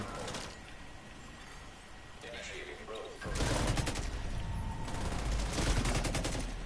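Gunfire from The Division 2 fills the scene: rapid automatic bursts start abruptly partway through and continue densely and loudly after a quieter, busier stretch of game sound.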